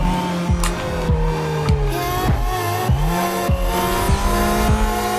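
Tires squeal under hard braking in Need for Speed Most Wanted on PS2, a loud continuous engine drone with repeated gear-shift dips and sweeping pitch changes as the car slows and accelerates through a race.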